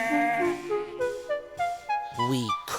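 A sheep bleats in a long, wavering, quavering call, loud and close, with a second shorter bleat near the end and no talking.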